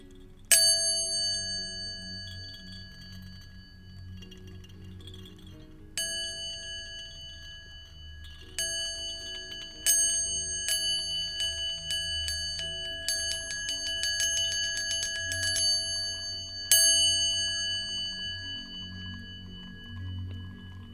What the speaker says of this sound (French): tandis que le son de la cloche s'éteint